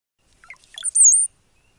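A brown-headed cowbird chick raised by yellow warblers gives a short, high, thin begging call: a few faint chips, then one loud sustained wavering squeal lasting about a third of a second, close and alone.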